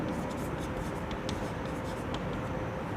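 Chalk or marker scratches steadily across a board during a class 12 maths lesson on parametric differentiation, a continuous scraping with faint taps over a noisy room background.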